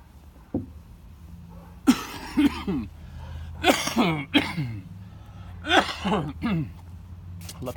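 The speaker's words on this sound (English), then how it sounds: "Let the coughing begin." A person coughs and clears their throat several times close by, in separate harsh bursts spread across a quiet background.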